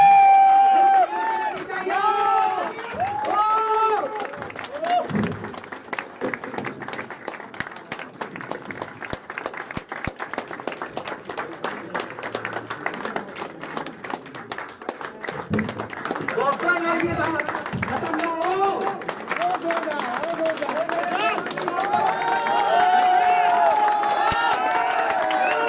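Audience applause at a speech event in Patna, dense clapping and crowd noise running throughout, with voices and some cheering mixed in.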